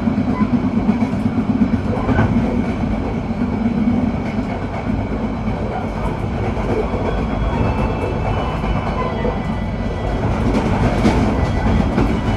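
A Sri Tanjung train passes the Ijen Express at a crossing at night with a loud, continuous rumble and clattering wheels, with faint squeals throughout.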